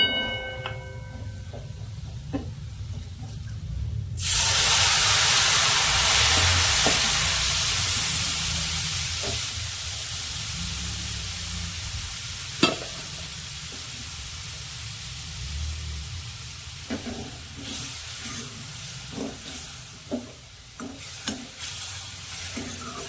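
Ground spices hit hot oil with garlic in a pan for a village-style greens dish, erupting into a loud, steady sizzle that slowly eases, with occasional spoon clinks and stirring scrapes; no talking.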